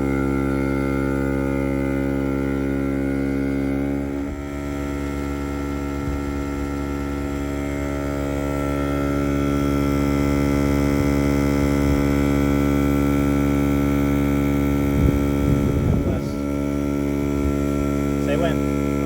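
A Viair 400P-A off-road air compressor runs steadily while inflating a tire from 15 to 30 psi, a loud, even motor drone with a strong humming tone and a few faint knocks near the end.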